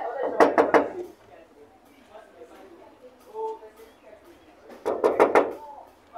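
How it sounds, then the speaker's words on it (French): Knocking on a door in Kinshasa, two clusters of rapid hard knocks, about four each, separated by a few seconds, close and loud, with quiet voices between them. "Je frappe déjà à la porte."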